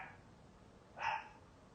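A puppy gives a single short bark, moderately close and fairly faint, standing alone against a quiet indoor background with no talk over it.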